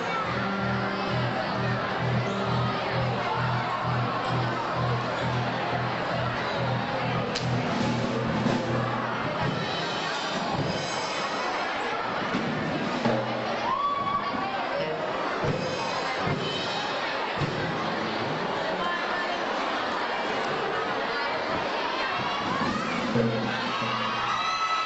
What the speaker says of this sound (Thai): เขากรี๊ดใครกันคะตอนนี้พี่เกม